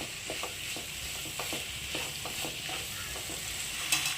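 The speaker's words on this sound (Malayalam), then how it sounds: "സവാള ഒന്ന് ചെറുതായി വഴന്നു വരുമ്പോഴേക്കും നമുക്കിതിലേക്ക് ഒരു നാല് മീഡിയം സൈസ് തക്കാളി അരിഞ്ഞെടുത്തതാണ് അതും കൂടെ നമുക്ക് ഇട്ട് കൊടുത്തിട്ട് ഇത് നന്നായിട്ടൊന്ന് വഴറ്റിയെടുക്കാം" Sliced onions and four chopped medium tomatoes sauté in a pan for butter chicken, with a soft steady sizzle and rhythmic stirring strokes close by and no voices.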